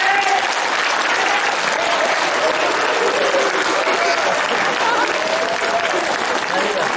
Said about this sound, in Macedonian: Тогаш да ги наградиме Весна и Вети со еден силен аплауз.